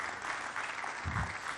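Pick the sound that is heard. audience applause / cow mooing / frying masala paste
audience applause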